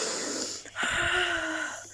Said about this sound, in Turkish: derin derin nefes alıp versin mi?